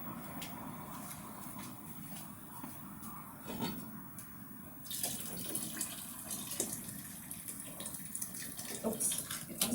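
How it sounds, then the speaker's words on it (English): Boiled water is poured from a kettle into a large soup pot, a faint steady splashing and trickling stream that grows a little brighter and fuller partway through. "We've now boiled another set of two kettles full of water. So I'll proceed now to pour them into the pot."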